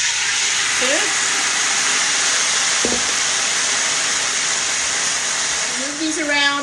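Carrots hit a hot skillet and sizzle with a loud, steady hiss that runs unbroken throughout, close up, with a brief voice near the end.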